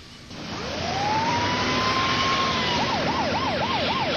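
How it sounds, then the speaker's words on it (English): An ambulance siren winds up over loud traffic rumble, holds a long steady wail, then switches to a fast rising-and-falling yelp, fairly close. "When the ambulance left with Bill in the back"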